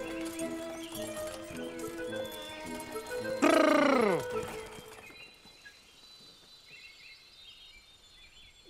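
Horses pulling a cart, with steady hoof clip-clop and harness jingle under a musical score; a loud whinny rises midway, then the scene quiets to faint crickets and birds outdoors.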